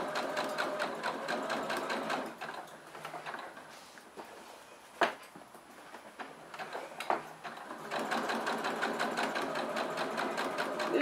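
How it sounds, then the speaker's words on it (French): A sewing machine stitching fabric for a large bag whirs in a fast, even rhythmic run, slows through a pause with a few knocks as the fabric is handled, then resumes its steady stitching, close by. "Je suis en place pour ma couture, c'est parti."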